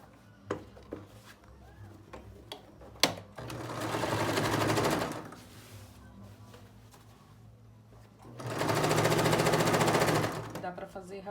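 A sewing machine stitches a French seam on a child's jacket sleeve in two steady, buzzing bursts of a couple of seconds each, close by, with a person talking and soft handling clicks between them.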